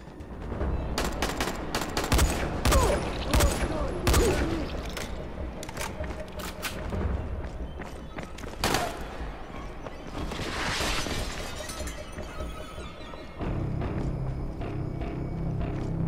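Gunfire in the Dying Light video game: repeated bursts of rapid shots with impacts and splattering, loud and close, continuing through most of the stretch with brief pauses and faint talk.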